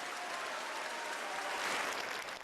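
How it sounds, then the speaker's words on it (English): Dense, steady applause from a large audience in a hall at a Labour Party conference, a continuous sustained wash of clapping at even loudness with no voices standing out. "Jeremy Corbyn took some time to join in the applause."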